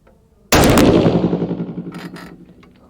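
A 6.5 PRC rifle loaded with Hornady 153 gr A-Tip ammunition fires one loud, close shot after a quiet moment, and the blast rings out into a long fading echo.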